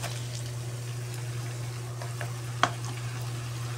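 Moong dal and onions frying in oil in a home kitchen pan, a soft continuous sizzle with occasional stirring scrapes and one sharp clink, under a steady low hum.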